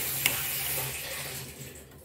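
Water runs steadily from a tap while clothes are being hand-washed, a soft continuous hiss and splash with one brief knock near the start, fading slightly toward the end.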